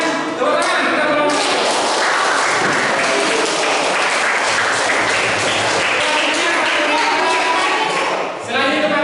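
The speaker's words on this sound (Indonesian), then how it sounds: "Kemudian tepuk tangan kita belum." A classroom group of students claps together in a sustained, loud burst with some rhythmic thumping, voices mixed in, fading near the end.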